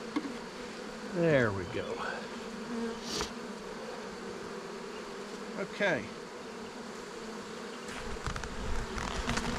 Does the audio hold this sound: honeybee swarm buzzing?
yes